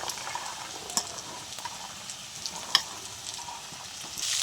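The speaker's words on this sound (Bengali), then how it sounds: "ভালো করে একটু ভেজে নেব।" Chicken and peas sizzle and fry in a pan for fried rice, a soft continuous crackle with occasional sharp pops and light stirring scrapes, no talking.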